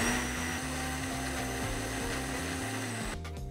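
A blender whirs steadily as it mixes a vanilla-flavoured shake, giving a close, continuous motor hum with a rhythmic pulsing that cuts off abruptly near the end.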